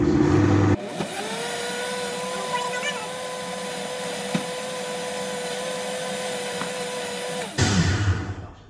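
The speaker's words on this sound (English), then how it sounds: "I'm just gonna blend it again." An electric blender whirs through a watermelon-strawberry drink with honey and lemon, a loud, steady motor whine running close for about seven seconds before it cuts off, with brief kitchen noise on either side.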